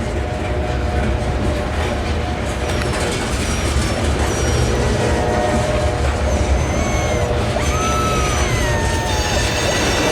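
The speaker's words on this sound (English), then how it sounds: "It's an auto rack train." An auto rack freight train rolls past steadily, a continuous loud rumble and clatter of cars with occasional high wheel squeals, no voices.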